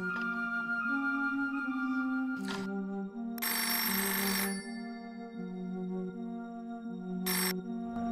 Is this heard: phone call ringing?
yes